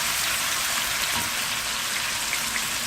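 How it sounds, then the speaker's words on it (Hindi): Mutton chops sizzle in ginger garlic paste in a karahi, a steady loud frying hiss that stays constant and close throughout, with no talking. "अदरक लहसुन का पेस्ट ऐड कर लेंगे। हल्का सा इसको फ्राई करेंगे।"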